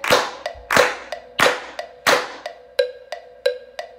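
Grade 4 band students clap their hands together in unison during a rhythm drill, a series of loud, sharp group claps in a steady pulse, interleaved with quieter ticks and no talking.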